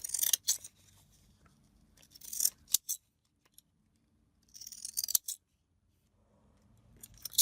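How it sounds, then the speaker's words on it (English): Scissors snip through paper in several short bursts of crisp cutting, separated by quiet pauses, close and clear with no speech. "I'm just going to use my scissors again to cut around that."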